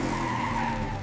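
Cartoon monster truck with super grip tires skidding in a continuous, loud squealing slide, steady and close throughout with no talking.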